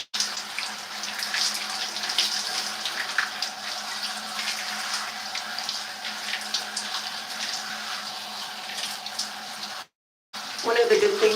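Steady running water from a tap rinsing hair during a wash-and-go routine, a continuous hiss that briefly cuts out near the end, with a voice talking over it.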